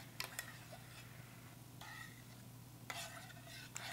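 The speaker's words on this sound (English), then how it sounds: "Stir that right in." A spoon stirs thick tomato paste into a pot, several faint scraping strokes separated by short pauses over a low steady hum, very quiet and close.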